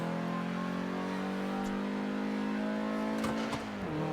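A Maserati engine in a driving video game, a steady droning hum that climbs slightly in pitch with a few sharp clunks toward the end, no voices.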